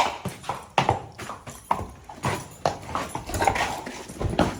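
A padded Tennessee Walking Horse steps along after a long workout, its hooves sounding as a close, steady run of clip-clop beats. A dog whines and yips faintly at times.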